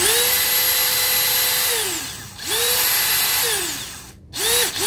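A DeWalt DCD805 cordless hammer drill whines up to speed, runs at a steady high pitch, then winds down, repeating in three bursts of drilling into iron, loud and close.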